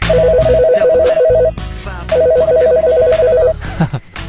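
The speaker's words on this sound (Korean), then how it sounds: "자, 그럼 이제 전화 받을 때 됐지? 전화 받아요." A phone ringtone plays in two bursts of rapid, trilling electronic tones, loud and close, broken by a short pause and layered over a background pop song with singing.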